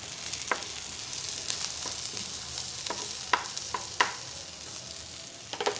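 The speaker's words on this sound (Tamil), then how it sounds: "இந்த ஜீரகத்தை போட்டு இதை அப்படியே லைட்டாக பொரியணுங்க" Cumin seeds frying lightly in a pan, a soft, steady sizzle with scattered small pops and faint stirring scrapes, heard close up without speech.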